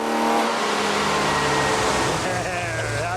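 A Dodge slant six engine on a dyno run roars loudly at high revs, its pitch climbing steadily toward the end, with a voice talking beneath it.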